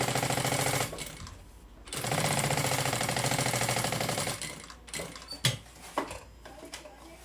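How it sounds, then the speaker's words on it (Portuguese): A domestic sewing machine runs in sustained bursts while stitching a small stitch around the edges of fabric for a binder cover, stopping and starting with brief pauses and handling clicks toward the end. "Olha, é só costurar aqui, ó, em todos os cantinhos, em cima da linha."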